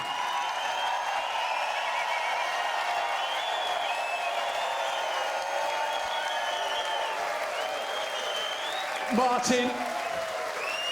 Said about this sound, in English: Another round of applause, please, for the runner-up and the champion.